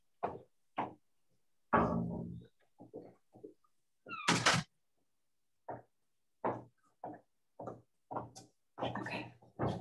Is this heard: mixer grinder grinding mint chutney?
no